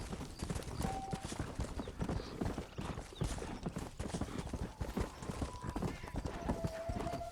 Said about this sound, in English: So this will be my horse now.